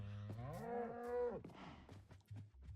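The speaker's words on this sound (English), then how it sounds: "It's time to kill some cows." A Minecraft cow lets out a long, loud lowing moo close by, followed by shorter bursts of game noise and clicks.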